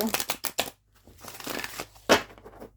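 Several bursts of dry, papery tarot card riffling with short pauses between them, fairly close and moderately loud, no talking.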